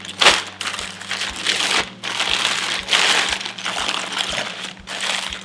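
Plastic Ziploc bag crinkling and rustling during tie-dye wrapping, loud and close, in repeated bursts of crackly handling with short pauses between them.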